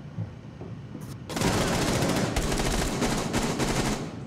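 Rapid automatic gunfire erupts in a Rainbow Six Siege match on the Oregon map, a dense sustained burst after a brief quiet lead-in, loud and close with no talk over it.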